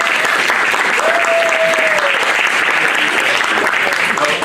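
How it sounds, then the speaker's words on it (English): Loud, sustained audience applause fills the whole stretch, a dense steady roar of clapping from a large crowd at a live stage show, with a brief cheer or whistle rising above it. "But we're not the one you should be applauding."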